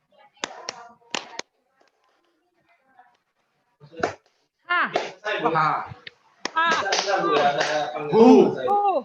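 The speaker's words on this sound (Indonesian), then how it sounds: "Tepuk 1, 2, 3." A group claps in counted unison during an indoor teacher workshop, with a few sharp separated claps and pauses between them, then voices talking and laughing take over.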